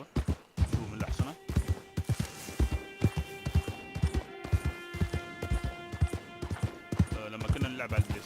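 Horse hooves clop steadily in the video game Red Dead Online, a rhythmic gallop under an ongoing voice and background game music.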